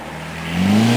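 A field car with a diff lock drives down through rain-soaked woods, its engine loud and near, droning steadily and then revving up in rising pitch, with no voices.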